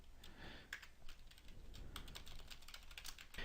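Keys clatter on a computer keyboard while a web address is entered into a browser, a quick uneven run of soft clicks, close but quiet, with no voice.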